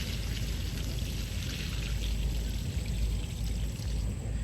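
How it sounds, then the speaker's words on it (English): Water pours steadily out of an overfilled, rain-soaked garden plant pot holding a trumpet plant, a continuous close splashing stream with no voices. "I'm gonna pour some of this out."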